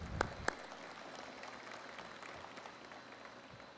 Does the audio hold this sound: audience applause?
yes